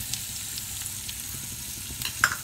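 Small onions frying in coconut oil in a kadai, a steady close sizzle with occasional light stirring scrapes and a brighter utensil tap near the end, no talk.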